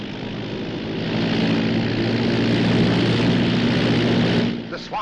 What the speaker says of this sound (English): That's the pickup plane.